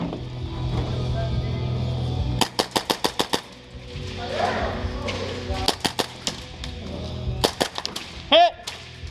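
Airsoft guns fire in rapid bursts of sharp cracks during an outdoor timer game, several quick volleys spread across the scene, with players shouting and talking between shots.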